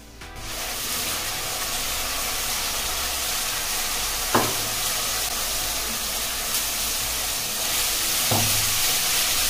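Masala paste frying in a pan with onion and asafoetida for a jackfruit curry, giving a loud, continuous sizzle close up, broken by two brief scraping stirs.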